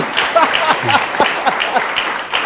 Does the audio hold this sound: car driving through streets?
no